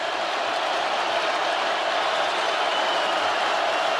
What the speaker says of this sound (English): Georgia's half of the crowd making some noise here